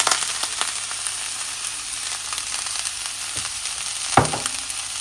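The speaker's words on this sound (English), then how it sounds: "I'm just gonna stir fry this around a little bit." Onion stir-frying in a hot cast iron wok makes a steady sizzle and hiss, with a couple of sharp utensil scrapes and knocks near the end.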